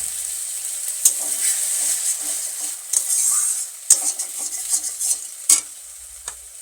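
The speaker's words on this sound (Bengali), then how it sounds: "রসুন ভালো করে ভেজে নিয়েছি, এখন এতে সামান্য একটু জল দিয়ে দেব।" Garlic fries in hot oil for a fish curry, a steady bright sizzle broken by sharp spatula scrapes and small clatters near the pan, with a brief surge of hiss as a splash of water goes in.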